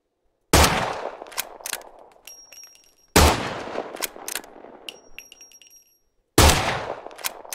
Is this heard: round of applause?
no